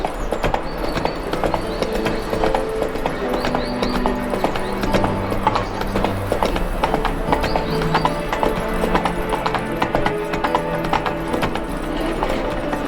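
A horse's hooves clip-clop in a quick, even rhythm as it is ridden in The Witcher 3: Wild Hunt, loud and continuous with faint game ambience behind.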